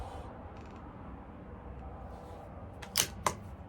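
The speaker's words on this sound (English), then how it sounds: "Wow, that was a real tight bolt close there." A CZ 457 LRP rimfire rifle bolt is closed tightly, producing two sharp metallic clicks in quick succession near the end, after a stretch of quiet outdoor ambience.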